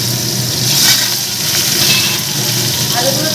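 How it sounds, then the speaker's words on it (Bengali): Potatoes frying in a wok, with a steady close sizzle and hiss that holds at an even loudness throughout. "কষিয়ে দিয়েছি আমি কড়াইতে, আলুগুলোকে আগে দিয়ে দেবো।"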